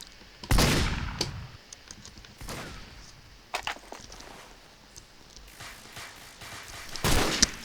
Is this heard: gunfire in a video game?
yes